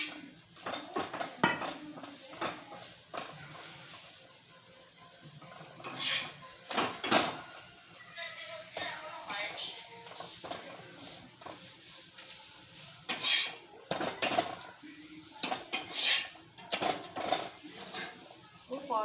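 Pans and metal utensils clink and scrape in a home kitchen while paratha is cooked, with scattered, irregular clatters, some louder knocks and a quiet background, as a person talks at intervals.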